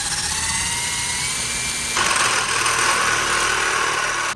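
A power drill runs steadily for several seconds, boring a hole through a steel rear fender liner on a Bronco. Its whine holds loud and close, shifts to a harsher tone partway through as the bit bites, then stops abruptly.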